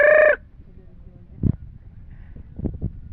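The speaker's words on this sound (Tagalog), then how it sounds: "Kasi mga manok." A loud, brief chicken squawk opens, followed by softer scattered clucks over low background rustle.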